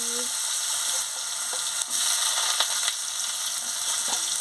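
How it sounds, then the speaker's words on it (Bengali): Potatoes frying in a pan during village-style cooking, giving a loud, continuous hiss of hot oil close up, with a few soft clicks and scrapes of stirring and no talking. "আলুটা দিয়ে ভালো করে ভেজে নিচ্ছি"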